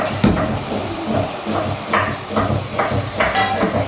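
Ginger garlic paste sizzles steadily in a hot pan for a Palakkad-style chicken curry, a continuous loud hiss with occasional spatters and clinks of stirring.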